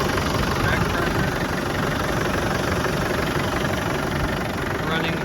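A 1996 Land Rover Defender 110 with a 300Tdi diesel engine idles steadily, a constant low rumbling drone that stays even throughout.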